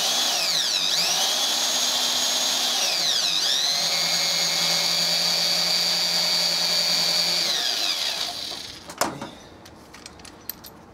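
A power drill runs in reverse with a number 3 Alden Grabit Pro screw extractor bit backing out a damaged screw, a loud close steady whine with pitch dips, then it stops and a few clicks and clatters follow.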